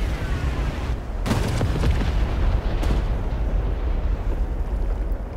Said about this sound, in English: Someone just rocket attacked me, that was brave